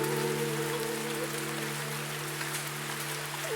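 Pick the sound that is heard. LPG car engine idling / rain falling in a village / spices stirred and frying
rain falling in a village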